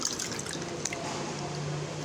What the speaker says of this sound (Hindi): अब मैं एक और पानी डाल रही हूँ